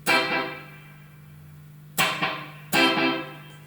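Picked guitar notes through an Echolette NG 51 tube tape echo at its slowest tape speed, each strike followed by a single distinct delayed repeat, with a steady mains hum between the notes.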